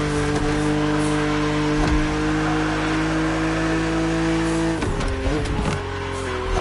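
A BMW Z roadster, a two-seater, races an opponent in the video game The Crew Motorfest, its engine droning steadily and loudly with a brief dip and shift in pitch near the end.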